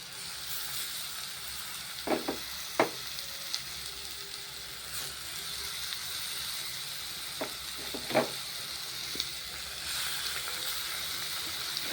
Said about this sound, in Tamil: அந்த மாங்காய் எடுத்து போட்டு நல்லா கிளறி விடணும்